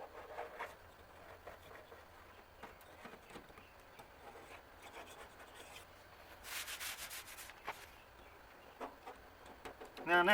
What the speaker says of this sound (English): I've got some down there that I'm going to have to hit with the scraper again.